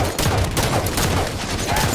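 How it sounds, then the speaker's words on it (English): Gunfire from an enemy Elite in Halo 5 Warzone Firefight, a rapid, loud stream of energy-weapon shots packed tightly together for two seconds, close and unbroken. "Enemy elite firing on me."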